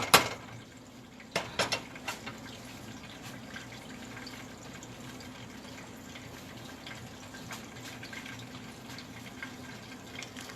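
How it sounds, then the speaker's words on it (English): Water poured into a cooking pot while making chilate, a faint steady trickle running for several seconds after a few brief clinks of the pot near the start. "I had to add more water, probably about another cup."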